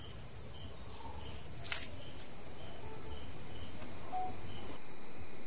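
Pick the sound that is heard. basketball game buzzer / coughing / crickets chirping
crickets chirping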